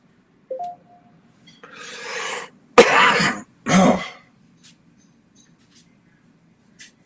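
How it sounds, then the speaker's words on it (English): A few harsh, dry coughs and throat-clearing bursts up close, separated by brief quiet pauses. "that dry, annoying cough doesn't sound great in the mic either"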